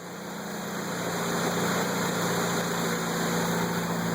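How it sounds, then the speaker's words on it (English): A Honda Prelude Si with an H23A1 engine, automatic transmission and manual ECU runs steadily in first gear, giving a constant droning hum with high whining tones and no talk. "I'm going to very gently leave in first gear and show you that the wheel will turn"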